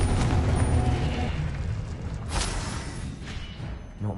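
A Confringo blast spell cast in Hogwarts Legacy, a loud fiery burst with a rushing roar that fades, then a second whooshing flare and a soft thump near the end.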